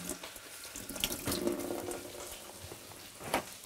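Shrimp are dropped into hot vegetable oil and sizzle, a quiet, close, steady hiss that swells briefly as they go in.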